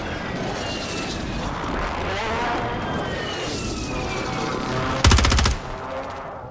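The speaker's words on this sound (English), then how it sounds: "Friendly precision airstrike inbound." Rapid video-game gunfire and the dense rumble of a friendly precision airstrike fill the scene, with a loud, sharp burst of blasts near the end before the noise eases off.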